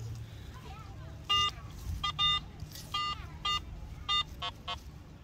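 Metal detector giving a series of short electronic beeps as it sweeps over a buried target outdoors, about eight bursts in irregular rhythm, with faint background talk.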